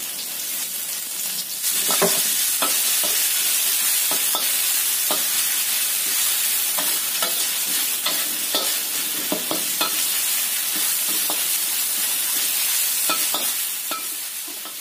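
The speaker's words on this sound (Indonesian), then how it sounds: "Kita tumis bumbu yang sudah diulek. Kita tumis sampai matang bumbu uleknya ini." Ground spice paste for fried rice vermicelli sautés in a pan with a loud, continuous sizzle, broken by frequent quick scrapes and knocks of a spatula stirring close by.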